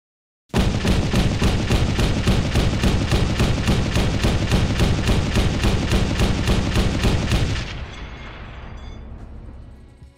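A CV90 infantry fighting vehicle fires its 30 mm Bushmaster cannon in a long, loud, rapid burst of evenly spaced shots lasting about seven seconds. A rumbling echo trails off afterward.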